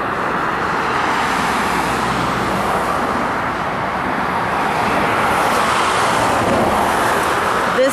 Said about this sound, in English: And I apologize again for the traffic.